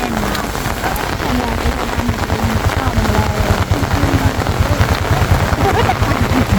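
Heavy rain pours steadily onto a roadside, a dense continuous hiss of drops with a low rumble underneath, loud and close throughout.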